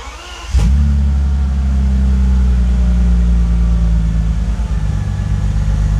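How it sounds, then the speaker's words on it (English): A faulty Bentley's engine cranks and catches, then settles into a steady, loud idle rumble that continues without voices. "I can try and start the car and see what kind of fault is gonna appear again."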